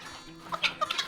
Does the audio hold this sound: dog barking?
no